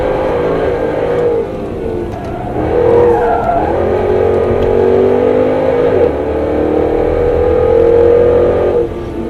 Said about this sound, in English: We're in the XKR 75 on a destination Nurburgring track day.